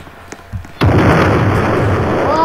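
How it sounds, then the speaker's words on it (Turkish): A car blows up in the Roblox game Brookhaven, a sudden loud burst that swells into a sustained roaring rumble, following a couple of small pops. "Gel o maşın patladı."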